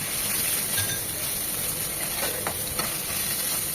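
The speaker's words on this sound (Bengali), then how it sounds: "হলুদের কাঁচা ভাবটা 10-20 সেকেন্ড ভেজে নেবো যেন কাঁচা ভাবটা চলে যায়" Turmeric and roasted cumin powder fry in hot oil with a steady hiss, punctuated by occasional scraping strokes of a spatula against the pan.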